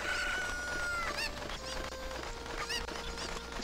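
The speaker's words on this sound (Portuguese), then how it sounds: "Nossa, eu vou pegar uma galinha aqui pra mim." Chickens in The Legend of Zelda: Ocarina of Time cluck in short, rising squawks that repeat several times. A sustained musical tone plays underneath.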